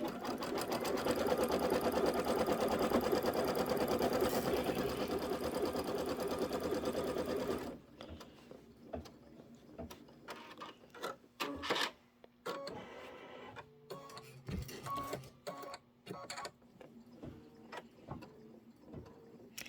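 A sewing machine runs continuously and loudly, stitching a quilted table topper, then stops, leaving intermittent clicks, short whirring bursts and handling noises.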